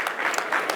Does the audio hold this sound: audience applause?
yes